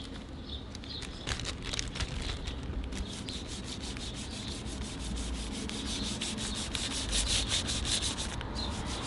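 Meguiars clay bar sliding over car paint in rapid back-and-forth strokes, a close, continuous soft rubbing hiss with fast rhythmic pulses and no speech.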